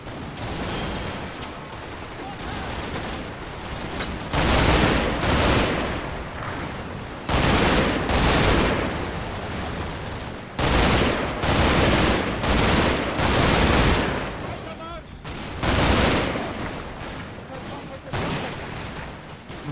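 Machine gun fire and rifle volleys in the WW2 strategy game Combat Mission: Normandy, spread across a canal-side town battle, with repeated loud bursts of rattling shots separated by short quieter gaps.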